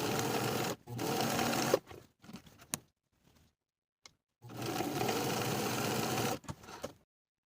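A sewing machine topstitches the seam allowances along the back shoulder of a cropped jacket, running in two long steady bursts with short stops and brief handling noises between them.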